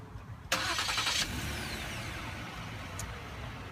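A 2015 Ford Flex with its 3.5 liter V6, started by remote, catches with a sharp burst of cranking and ignition, then settles into a steady, fairly close idle hum with no talk.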